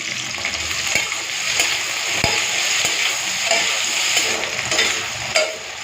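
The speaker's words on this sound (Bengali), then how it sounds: "তো সর্ষের তেলটা গরম হয়ে গেছে, এখন দিয়ে দেবো কেটে রাখা ঢেঁড়স।" Cut okra sizzles steadily in hot mustard oil, with the close, dense crackle of frying and occasional scraping clicks from stirring.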